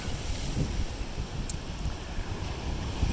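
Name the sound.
Pacific Ocean waves at a blowhole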